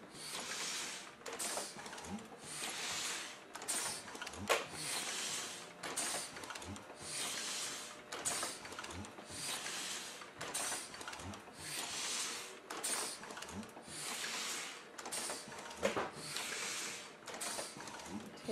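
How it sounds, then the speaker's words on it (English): A letterpress printing wedding invitations for a St. Croix wedding, with tangerine ink on the rollers, runs in a steady repeating mechanical cycle of clanks and rolling, sliding strokes, loud and near, with occasional faint talk underneath. "Russ is getting ready to print your St. Croix wedding invitations right now"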